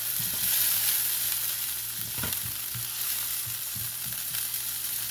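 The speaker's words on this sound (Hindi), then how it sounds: "लहसुन थोड़ा सा मैं कर लूँ गोल्डन" Garlic frying golden in a small pan gives a steady, loud hiss of oil sizzle, with occasional soft stirring scrapes and no talking.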